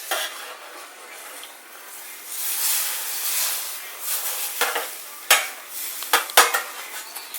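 Steaks in mojo criollo marinade sizzle in a pan after being flipped, a steady hiss that swells, with sharp utensil scrapes and clinks toward the end.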